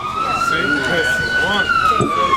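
A police siren wails loudly along a street in San Francisco's Mission district, one long sweeping tone held close, with voices faintly underneath.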